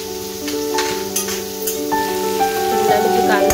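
Capsicum and onion fry in a pan, kept half raw, with a steady sizzle running under clear tonal background music throughout.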